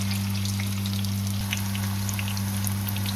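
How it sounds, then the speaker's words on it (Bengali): Vegetable fritters (piyaji) frying in hot oil, a steady crackling sizzle with scattered pops over a constant low electrical hum, close and continuous throughout. "এখন ভাজা হচ্ছে।"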